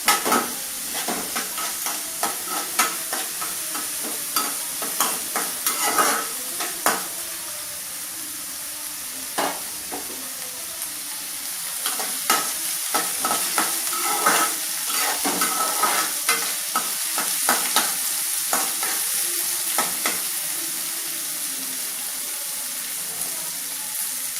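Onions frying in a pan until golden for a tangy tamarind curry, a continuous close sizzle broken by frequent scraping strokes and clacks of a ladle stirring, alone without talk.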